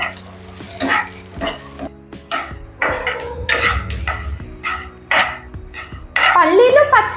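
Green chillies, ginger and unpeeled garlic frying in a pan for a mung bean palak dosa batter, with clattering utensil scrapes and stirring over a steady sizzle, plus a person's voice and a cough in between.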